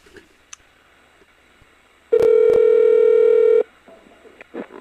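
Telephone tones during a call transfer at a police department desk: a loud, steady tone of about one and a half seconds sounds alone, with brief clicks before it and faint background noise around it.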